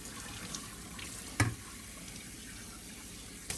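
A tap runs as soap-nut dish wash paste is rinsed off a kitchen vessel. The water hisses in a faint, steady stream, with one brief clunk of the vessel midway and another at the end.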